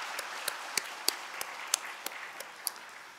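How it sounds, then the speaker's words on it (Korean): A church congregation applauds softly at a distance during a Sunday service, with a steady patter of clapping and a few sharper claps standing out. "우리 큰 박수로 격려하시겠습니다"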